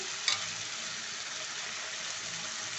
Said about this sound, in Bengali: মশলাটা গায়ের থেকে যখন তেলটা ছেড়ে আসবে বোঝা যাবে মশলাটা ফ্রাই হয়ে গেছে